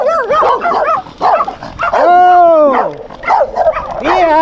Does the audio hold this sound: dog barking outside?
yes